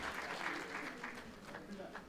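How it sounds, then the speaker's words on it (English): A round of applause for panelists at a housing lottery forum at Medgar Evers College in Brooklyn, heard as soft, fairly distant clapping from an audience with a voice speaking over it. "let's give our panelists one more round of applause"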